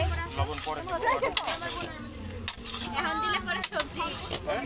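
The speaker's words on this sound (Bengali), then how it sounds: "এখানে মাংস কষানো হচ্ছে" Chicken pieces for a vegetable curry sautéed and stirred in a pan, giving a steady close sizzle with scraping stir strokes throughout, voices talking over the cooking.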